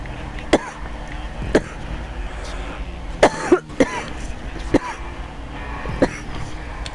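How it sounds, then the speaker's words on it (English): A person coughing repeatedly while smoking weed, a series of sharp close coughs spaced about a second apart with a louder cluster midway, over faint background noise. "I always cough when I smoke weed."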